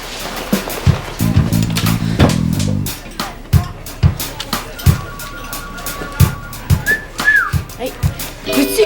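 Short, bright whistled notes come in quick bursts over a busy background, with a sliding whistle later and clicks and voices scattered throughout.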